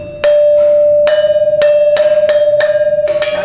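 Gongs being struck at a gong factory ring out in a quick series of loud metallic hits, each with a bright attack and a sustained, steady humming tone carrying between strikes.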